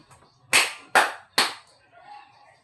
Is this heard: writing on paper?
no